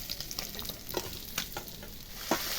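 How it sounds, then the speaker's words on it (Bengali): Khoyra fish sizzles and crackles frying in hot oil, with a steady dense hiss and occasional sharper pops and utensil scrapes, close and continuous. "অল্প অল্প করে ভেজে নিচ্ছি"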